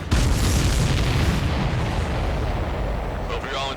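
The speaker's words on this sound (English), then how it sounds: "Missile hit the supply ship dead on." Missile explosions in the Ace Combat 7 video game, a loud, sustained rumbling boom that fills the whole stretch, with heavy low-end blasts decaying slowly.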